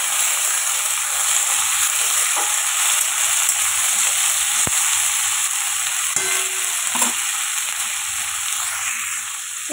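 Cauliflower stalks and mixed vegetables fry in a pan with salt and turmeric, a steady close hiss and sizzle running throughout, with a few soft stirring clinks and no talk.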